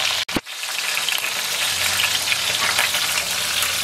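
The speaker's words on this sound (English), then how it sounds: "Browned one side and turned them over. And brown the other side" Veal shanks browning in a frying pan for osso buco, a loud steady close sizzle and crackle of hot fat, with a brief knock of the pan at the start.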